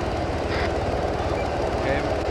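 Helicopter in the military game Arma, a continuous rotor drone with a pulsing low beat, steady and fairly loud throughout, with voices briefly heard over it.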